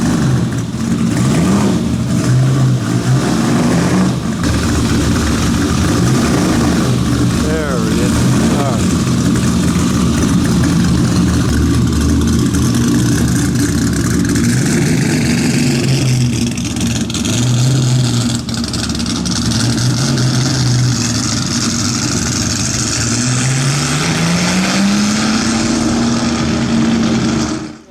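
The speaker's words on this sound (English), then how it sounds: "Let's see Ferrari back up." A Ferrari at the Concorso Villa d'Este classic car show backs up, its engine rumbling loud and close with rising revs and pitch sweeps, while people nearby talk over it.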